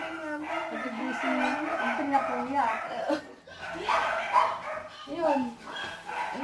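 Small-breed dogs, a Chihuahua, Pomeranian and poodle among them, yap and bark in short bursts at close range, mixed with people talking throughout.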